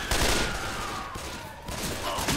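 Dense, continuous gunfire in the Left 4 Dead 2 video game, loud rapid shots overlapping into a sustained rattle with game noise throughout.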